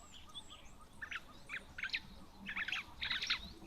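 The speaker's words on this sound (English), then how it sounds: "So all 5, 6 different little birds all coming down to feed." Small birds such as queleas, cordon bleus and starlings feeding at an African waterhole give short, bright chirps in scattered bursts that grow busier toward the end, faint over a soft outdoor background.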